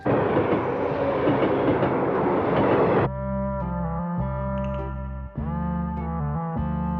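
A train in an animated cartoon, first a loud dense rumbling roar for about three seconds, then a steady droning, horn-like tone with short breaks.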